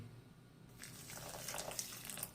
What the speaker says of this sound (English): we also need some hot water in here